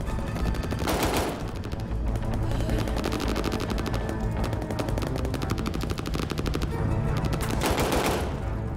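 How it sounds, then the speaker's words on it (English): Rapid pistol gunfire in Call of Duty: Vanguard, a dense, nearly continuous stream of loud sharp shots with brief heavier bursts, no talking over it. "I like this pistol"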